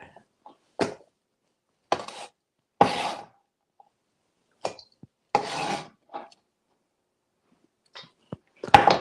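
Vegetables chopped for a quinoa salad, a knife striking the board in short scattered bursts separated by pauses, close by and fairly clear.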